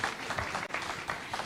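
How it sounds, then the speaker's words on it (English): Brief round of audience clapping at an evening national dialogue event as a chairperson is welcomed to give closing remarks, a steady moderate patter at some distance. "Let's welcome her with a round of applause."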